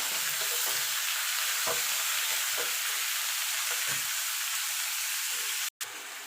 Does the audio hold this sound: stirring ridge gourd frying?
yes